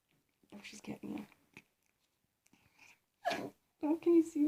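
A small pet dog sneezes indoors, a short sharp burst among soft snuffles, while someone talks quietly nearby.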